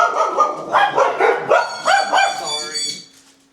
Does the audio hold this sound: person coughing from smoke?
no